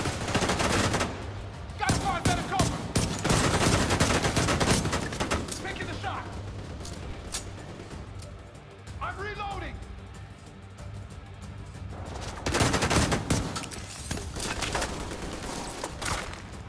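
Bursts of heavy gunfire in The Division 2 crackle in dense volleys, pausing midway while in-game voices speak, then erupting again loudly near the end.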